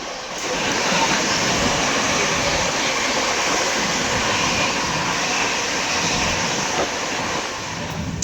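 Inside the MGR Chennai superfast express, train 12163, a steady loud rumble and rushing roar of the moving coach fills the whole stretch, constant and close with no talk.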